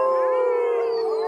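A group of high school ultimate frisbee players imitates a wolf with their voices, a sustained, tonal, drawn-out howl held steadily for over a second, loud and close with no other talk.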